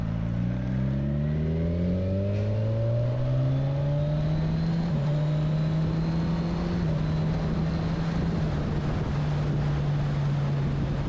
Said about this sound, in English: Like listen to the shifting here.